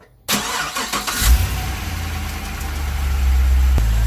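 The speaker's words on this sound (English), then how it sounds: "from here I'll start the car" A Pontiac GTO/Holden Monaro engine cranks and fires up during an oil change, catching quickly and settling into a loud, steady rumbling idle close by.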